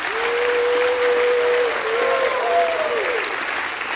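A church congregation breaks into loud, sustained applause during a praise service. A voice rises in a held, sung shout above the dense clapping.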